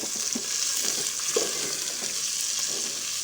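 Onions frying in hot ghee in a pot, a steady close sizzle with occasional stirring scrapes and crackles, no voices.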